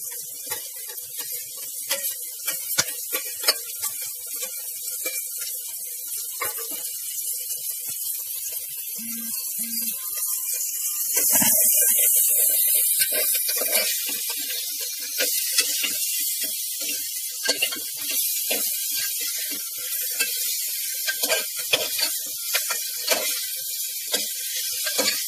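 Chopped onion and green chili sizzling in a hot pan for spinach soup, a steady close hiss with a louder surge midway and faint clinks of stirring.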